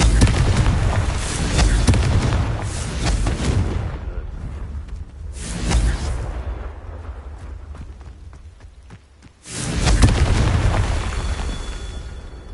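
Loud booming blasts from the Confringo blasting spell in a Harry Potter game, a long roaring explosion, then a quieter gap with faint crackle before another heavy burst near the end.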